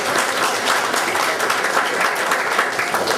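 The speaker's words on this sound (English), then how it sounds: "I believe he deserves a round of applause." A round of applause for a 92-year-old audience member at a question-and-answer session with an Australian MP, dense sustained clapping from a crowd heard alone and at even loudness.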